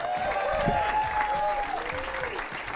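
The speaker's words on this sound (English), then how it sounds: "Keep that applause going for the great Peter" A comedy club audience gives a sustained, steady round of applause for a stand-up comedian, with cheers and whoops mixed into the clapping.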